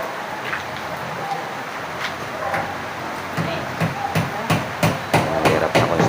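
Hammer strikes ring out on a construction job, at first sparse and distant, then growing into a denser run of sharp, loud blows over steady background noise.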